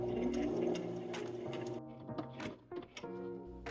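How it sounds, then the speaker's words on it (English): A sewing machine whirs in short bursts of stitching on fabric, stopping and starting with brief pauses between runs. "I'm using the sewing machine to do all the sewing."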